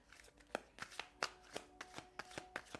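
A deck of playing cards is shuffled by hand, a quick series of crisp riffling bursts about every third of a second, quiet and close with a faint steady hum underneath.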